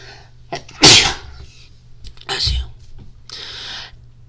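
A sharp, loud sneeze bursts out, followed by a couple of breathy sniffs and exhales.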